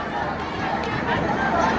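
Crowd of protesters in Atbara chanting, a dense continuous roar of many voices close by, steady throughout with no pauses.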